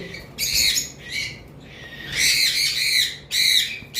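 Blue conure parrots squawk loudly and harshly from a cage close by, letting out several short shrill bursts with brief gaps between them.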